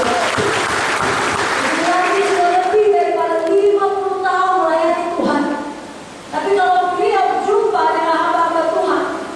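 Church congregation at a Sunday service clapping briefly at first, then a voice sings a melodic line over the dwindling applause, with a short dip partway through.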